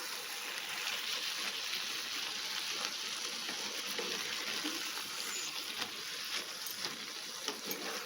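Water being poured into a pan of Bangalore-style brinjal curry (baigan kasha) on the stove, heard as a steady gushing hiss mixed with soft sizzling that runs evenly and close up, with no one talking.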